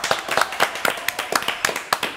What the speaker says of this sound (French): Allez, applaudissements pour Mike.